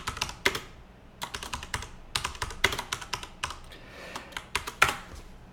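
Close, quiet typing on a computer keyboard comes in irregular bursts of rapid keystrokes separated by short pauses, with no talking.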